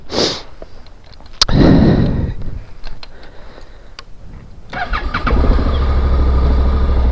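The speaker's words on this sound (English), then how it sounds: "So let me go ahead and start it." A Honda NC700X DCT motorcycle starts up: a few clicks and a whirring crank, then the engine catches and settles into a steady, close idle.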